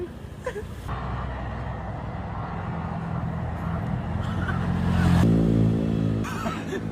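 A small engine fitted to a converted bicycle runs steadily nearby, a continuous buzzing drone that swells slightly toward the end, with a few brief knocks and handling noises over it.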